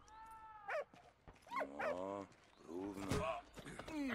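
A dog barks and whimpers in short, bright yips inside the World War I adventure game Valiant Hearts, several bursts over about four seconds, mixed with someone talking over the game.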